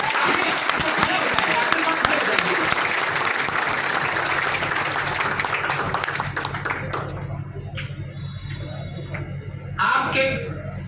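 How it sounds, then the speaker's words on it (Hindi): Audience applause at a weavers' gathering, broad steady clapping for about seven seconds before thinning out, with a few scattered claps and faint bird cooing near the end. "हम चाहते हैं कि डॉक्टर साहब का आप लोग ताली बजाकर स्वागत कर दीजिए"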